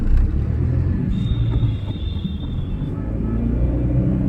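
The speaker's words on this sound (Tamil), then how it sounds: "இப்போ நம்ம வண்டியை ஆக்சிலேட் பண்ணி பார்க்கலாம் எவ்வளோ ஸ்பீடில் போகுது அப்படின்னு" A car engine accelerates while heading downhill, giving a steady loud low rumble of motor and road noise that holds throughout, with a faint whine rising above it.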